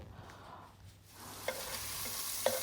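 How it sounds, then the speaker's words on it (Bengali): Shrimp frying in a home kitchen pan, a soft steady sizzle that swells after a quieter start, with a couple of brief sharp pops or utensil taps near the end; no voices. "চিংড়ি মাছগুলো খুব বেশি ভাজবো না তাহলে শক্ত হয়ে যাবে"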